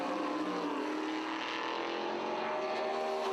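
1970s F5000 race cars with 600-horsepower engines roar past on a racing circuit, a continuous loud, droning engine wail with a shifting pitch that fills the whole stretch.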